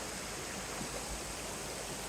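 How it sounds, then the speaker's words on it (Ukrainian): Water rushes steadily through Kapuz Kanyonu, a canyon near Antalya, producing a constant, close broadband roar with no pauses and no voices. "Навколо вода, всюди вода."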